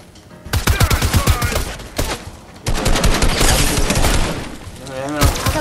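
Gunfire rattles through a Fortnite match in rapid bursts of shots, loud and close, with brief pauses between volleys and a sharp final crack.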